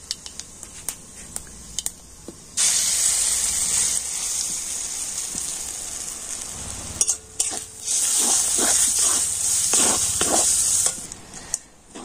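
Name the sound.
masoor dal added to hot oil with panch phoron, sizzling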